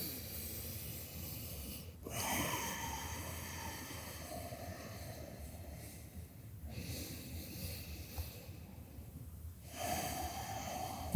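Slow, quiet breathing during a yoga stretch, soft airy inhales and exhales in a calm room with a couple of brief pauses, close and faint, no talking.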